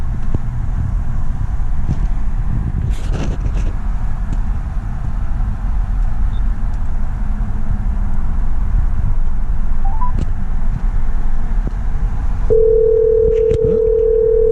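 A phone call placed through a Phoenix PX6 head unit in a 2018 Nissan Titan rings out as a steady electronic tone near the end, heard over a constant low cabin rumble and wind noise.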